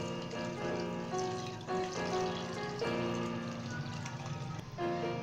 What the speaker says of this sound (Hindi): अब इस स्टेज के अंदर हम इसके अंदर पानी डाल देंगे।